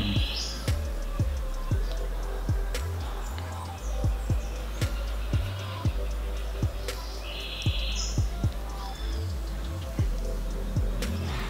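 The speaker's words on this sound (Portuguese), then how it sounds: "se vocês estiverem escutando os passarinhos cantando, é porque eu tô de frente pra janela e ela tá aberta" Songbirds chirp and tweet in short scattered bursts through an open window, fairly faint, over a steady background hum with occasional soft knocks.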